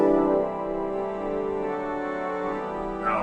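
A sustained chord drawn on the string stop of an organ's positive division, a thin, buzzy, evenly held tone lasting several seconds, close and steady with no voices.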